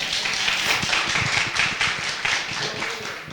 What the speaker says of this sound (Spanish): Un aplauso para Moratorio.